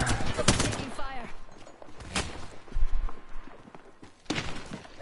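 Gunfire in an online multiplayer shooter: several sharp shot bursts ring out at intervals, loud and close, mixed with game sounds while players talk over voice chat.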